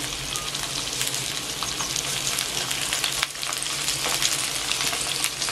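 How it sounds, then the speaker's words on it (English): Food sizzles steadily in a hot electric skillet, a dense crackling hiss that holds at an even level with a few louder pops. "We have a little sizzle coming up on the pan."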